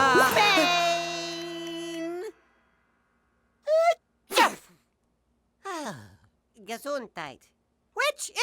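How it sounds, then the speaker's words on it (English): Cartoon sneeze from a VeggieTales character: a long, strained, sustained vocal build-up, then a pause and a series of short, sharp, breathy bursts, close and clear. "Sneeze if you have to. Sneeze if you need to."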